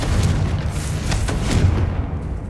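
A Confringo blasting spell in Hogwarts Legacy bursts with a loud, booming explosion, followed by rumbling blasts and crackling impacts over a continuous roar of game noise, fading toward the end.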